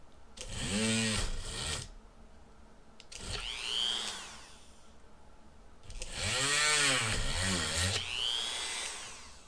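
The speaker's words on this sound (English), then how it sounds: "we have our holes drilled out bigger" A power drill enlarges holes in a plastic battery tray during an electric scooter upgrade, heard as two close, loud whirring bursts that rise and fall in pitch, with a quieter pause between them.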